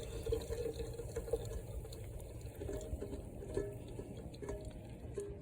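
Grease poured off cooked ground beef for sloppy joe through a kitchen strainer, a steady close liquid trickle and splatter running throughout with a few louder splashes.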